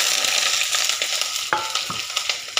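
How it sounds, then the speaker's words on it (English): Mustard seed, fennel seed, onion and curry leaves sizzle loudly in hot oil, with a steady hiss broken by repeated scraping stirs of a utensil against the pan. "stir it up for 4 to 5 minutes."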